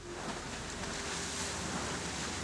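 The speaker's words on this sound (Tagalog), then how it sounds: "Matataas na alon ang sumalubong sa bangka." High waves rush and crash against a fishing boat at sea on the way to Reed Bank, a loud continuous wash of water and wind noise with no break.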